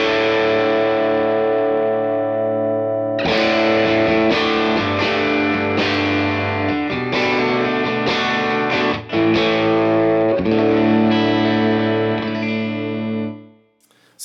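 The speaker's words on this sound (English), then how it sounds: "it's kind of like a reverb, but a little different. It really gives you the sense of playing with an amp in a room" Electric guitar played through a Universal Audio Ox tube amp with its room mic setting, a 121 and 57 mic combo, sustained distorted chords and notes ringing with a roomy, reverb-like ambience, loud and continuous, with a short silence near the end.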